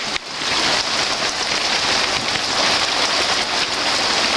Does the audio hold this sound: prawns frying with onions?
no